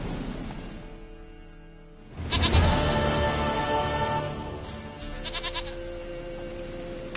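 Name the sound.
goat bleating in the video game The Witcher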